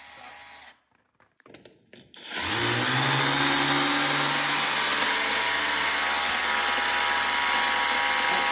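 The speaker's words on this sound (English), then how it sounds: "Our pressure washer's clogging up." A pressure washer used for graffiti removal in a cave sputters and cuts out with brief gaps and knocks, then roars back to a loud, steady, hissing drone that continues to the end, with no talk.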